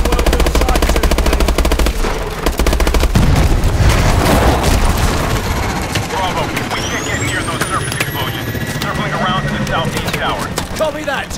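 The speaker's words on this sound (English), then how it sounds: "Coming in for a gun run on enemy foot movements." Call of Duty: Advanced Warfare aircraft gun run, loud rapid machine-gun fire and booming impacts over a jet roar, with radio voices talking and a rising whine.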